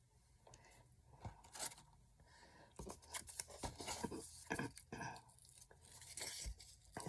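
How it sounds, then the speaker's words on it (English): Scissors snip through a paper tag for a Christmas craft project, a quiet series of irregular cuts and rustles close by, with soft crinkling between the snips. "So I'm trimming this ticket off."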